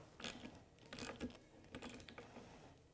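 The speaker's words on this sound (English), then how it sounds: "We're going to use a 10 millimeter socket to tighten it down." Ratchet with a 10 mm socket snugging a nut on a Polaris General XP 4 1000 UTV during an upgrade kit install: a faint, quick series of clicking pawl ticks, close by and with no talk.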